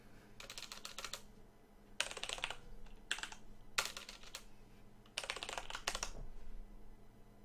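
Fast typing on a computer keyboard comes in rapid bursts of clicking keystrokes separated by short pauses, close and fairly quiet against a faint background hum.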